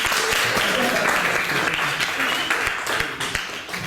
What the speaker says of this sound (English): Can we give Valentina a round of applause?